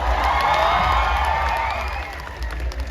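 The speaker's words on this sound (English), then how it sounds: "a huge round of applause for Robert" Audience applause and cheering at the closing ceremony of the Sangai Festival 2022 in Manipur, a large crowd clapping and shouting loudly and steadily throughout, with no one speaking over it.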